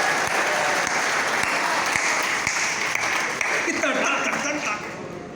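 Sustained, loud audience clapping fills a Hindi comic poetry gathering, a dense steady roar of hands that holds for several seconds before easing slightly at the end.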